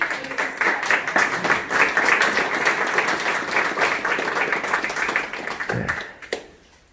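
Audience applause at the opening of a sculpture exhibition, a dense, steady round of many hands clapping for about six seconds before quickly fading out.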